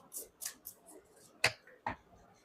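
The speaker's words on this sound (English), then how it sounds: "Last shuffle." Tarot cards being shuffled, a few soft riffling bursts early on followed by two sharp slaps as the deck is squared, close and fairly quiet with no talk.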